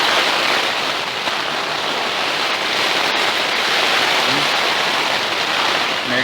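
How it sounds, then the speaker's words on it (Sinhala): Heavy rain pours steadily and loudly over a mountain campsite in Salalah, a dense unbroken hiss of water with no pauses and no talking. "මාර විදියට වහිනවා"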